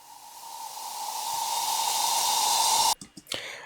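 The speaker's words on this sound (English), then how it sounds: "the crash is just a white noise. It's a white noise downlifter." White noise downlifter crash effect for an 808 Gqom beat: a steady broad hiss that swells slightly over about three seconds, then cuts off abruptly into a few brief choppy bursts. No voices.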